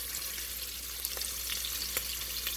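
Beef sautéing in a pan over high heat, a steady broadband sizzle with a few brief spatters and pops, close and even throughout with no talking.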